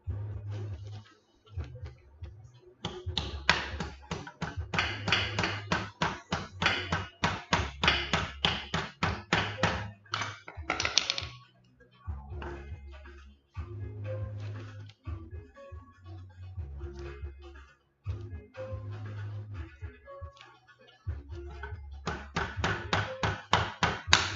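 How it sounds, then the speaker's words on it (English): Rapid runs of light metallic taps from a hammer striking a 2003 Honda Shadow VT750DC motorcycle part during clutch replacement, coming in bursts with brief pauses, close by and fairly loud. "I'm just barely hammering this."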